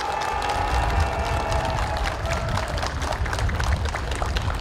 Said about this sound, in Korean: 우리 젊은 후배님들께서 참석하신 어르신들을 위해서 큰 박수 한번 부탁드리겠습니다.